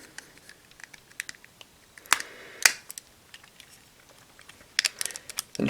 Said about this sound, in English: Next we'll take the chest and pop it open.